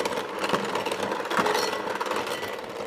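An electric mixer running at full power beats California prunes, margarine and sugar, a steady, loud motor whir with rattling beater churn throughout, close and uninterrupted.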